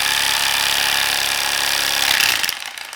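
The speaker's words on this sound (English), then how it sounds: "That was the last sound you heard, was the mason jar breaking." Loud, constant rattling roar of a 3D-printed paint shaker holding a mason jar of cream, ending in a sudden crunch as the jar breaks, after which the noise drops away.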